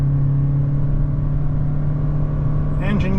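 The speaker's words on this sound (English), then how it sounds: "engine get noisy when you got it under load" A 2023 Toyota Corolla Cross XSE Hybrid engine hums steadily and strains under load, with a rising whine near the end as it picks up speed.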